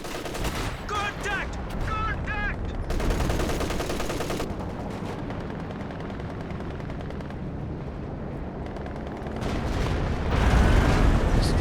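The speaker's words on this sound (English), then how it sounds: "Going for the base barrage again" Company of Heroes 2 battle: an artillery base barrage rumbles heavily, with dense booming impacts and crackling gunfire layered under brief voices and game sounds, and it swells louder near the end.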